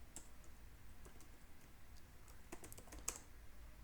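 Fast, light typing on a computer keyboard with irregular clusters of clicky keystrokes, close and fairly quiet, with no talk.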